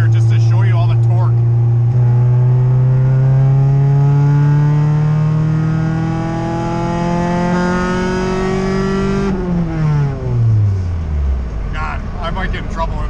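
A tuned Honda CRX accelerates hard in fourth gear, the engine note climbing steadily and loudly from inside the car for several seconds before easing off into a falling drone.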